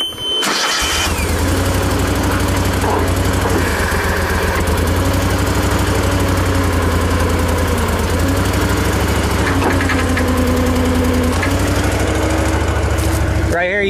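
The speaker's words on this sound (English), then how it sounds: "We'll go ahead and fire up the machine, open the bucket up so you can see the bottom of it" A Toro Dingo mini skid steer loader fitted with a 44-inch 4-in-1 bucket runs close by. Its engine catches and settles into a loud, steady drone with a deep throb, with small shifts in pitch as the machine works.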